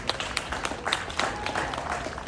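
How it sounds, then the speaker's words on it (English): Audience clapping at the grand opening of an outdoor amphitheater in a park, an open-air round of applause with scattered individual claps, moderately loud and steady over the short stretch. "A round of applause,"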